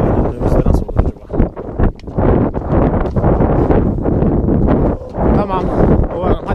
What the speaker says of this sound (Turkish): Evet, rüzgarımız arttı.